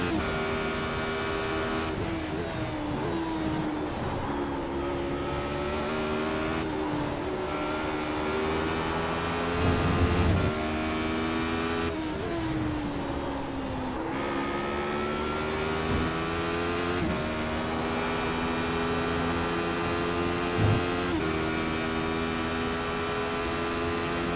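Racing game engines drone steadily, rising in pitch and dropping back at each gear shift, a constant loud whine with no talking.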